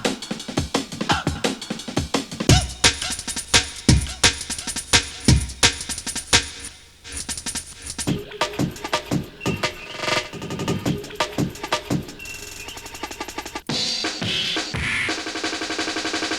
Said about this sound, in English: This is 2 breaks alternating every 2 bars for some variation.